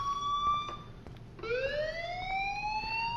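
A fire alarm in the video game Life is Strange wails with a steady tone that breaks off, then restarts and sweeps upward, sounding loud and continuous with no talking.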